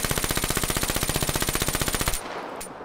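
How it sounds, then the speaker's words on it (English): VMP submachine gun fired without attachments in Black Ops 3, a rapid, steady stream of loud, evenly spaced shots for about two seconds before it cuts off into a short, fading tail. "First, I'm going to shoot a VMP with no attack."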